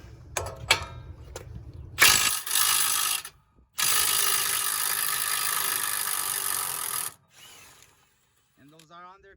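Wrench with a 36 socket breaking loose the big front wheel hub nut on a 2005 Mustang 4.0, loud ratcheting bursts near the mic between brief clicks, with a voice speaking faintly.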